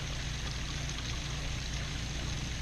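Wastewater flushes steadily through an RV sewer hose while the black and gray tanks are emptied, a continuous close rushing wash with no break and no voices.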